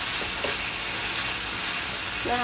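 Coriander leaves sizzling and frying in a pan before fish goes in, a steady broadband crackle throughout with a couple of brief clinks from stirring, no talk.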